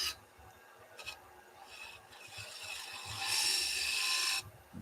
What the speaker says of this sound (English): I'll just do a little bead with the spindle.